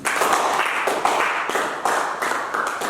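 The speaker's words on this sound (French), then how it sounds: "Acclame Dieu, acclame Dieu." A congregation at a worship service claps in praise, close and loud, with distinct overlapping hand claps in a lively, uneven rhythm.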